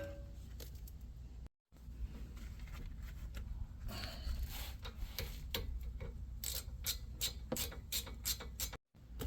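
Ratcheting clicks in quick repeated bursts as slider bolts are driven back into a brake caliper on a 2006–2015 Honda Civic Si, with a short gap partway through; close and fairly loud, no talking.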